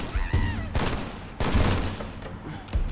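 Rapid bursts of gunfire in the video game Fallout London, several loud close volleys in quick succession with brief gaps between them, plus a faint voice briefly.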